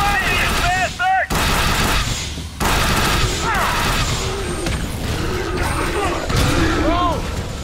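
Gunfire in the shooter game The Bureau: XCOM Declassified, loud bursts of shots and crashing impacts layered with shouted voices and sci-fi weapon sounds, dense and continuous throughout.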